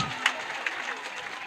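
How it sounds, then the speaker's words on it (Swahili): Audience clapping for grade 10 students at a school event, a short patch of scattered applause with a couple of sharper claps standing out, heard under and around a speaking voice. "Can you appreciate them again? Makofi kwao."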